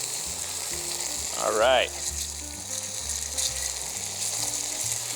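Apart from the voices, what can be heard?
bologna frying and sizzling in a pan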